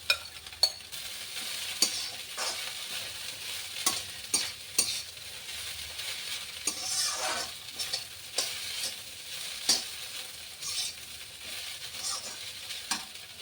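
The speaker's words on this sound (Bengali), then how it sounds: "এবারে এতে জিরেটা দিয়ে দিলাম" Cumin seeds fry and sizzle in hot oil in a pan with already browned onion, a steady hiss broken by repeated scraping strokes of a spoon as they are stirred, close and clear with no talk.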